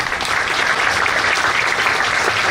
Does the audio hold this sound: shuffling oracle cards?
no